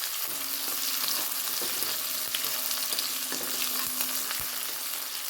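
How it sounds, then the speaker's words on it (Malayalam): Shallots frying in oil in a pan for Kerala-style beef pepper fry, a steady close sizzle with occasional light clicks and taps as they are moved about. "ഇത്രയും ചെറിയ ഉള്ളി ഇടുന്നത് കേട്ടോ."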